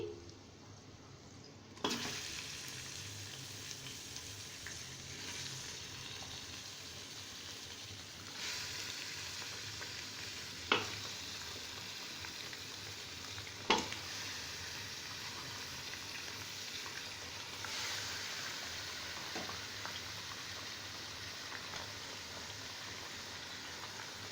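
Mutton pieces sizzling loudly in a pan with golden fried onions, a steady broad crackle of frying with a few sharp clinks and stirring scrapes, no voices.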